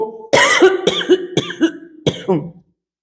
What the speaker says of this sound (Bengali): হঠাৎই কাশি হলো